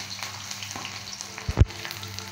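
Chopped onion and green chili frying in oil, a low, steady sizzle close by with one brief louder thump and crackle near the end.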